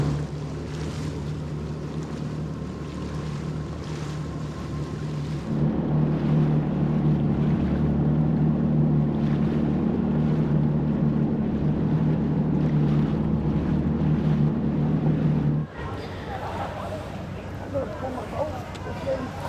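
Yamaha WaveRunner jet skis cruising on Lake George: a steady, close engine drone and water rush that swells louder midway, then drops to a lighter wash near the end.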